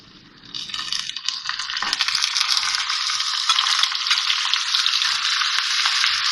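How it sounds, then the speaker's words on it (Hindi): Minced meat tipped into a pan of golden-fried onions bursts into loud, continuous sizzling that swells after a brief stir and holds steady, close up with no voices. "ये कीमा डाल रही हूँ इसमें।"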